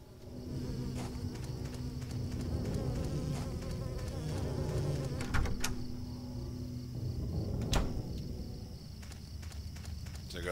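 Insects buzz continuously in Silent Hill 4, a steady droning hum with scattered clicks and thumps from the game, and no talking.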